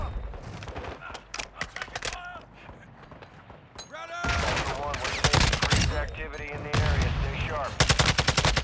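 Bots fire automatic weapons in the video game DMZ, with rapid bursts of close, loud gunfire crackling repeatedly and growing denser in the second half, while voices speak in between.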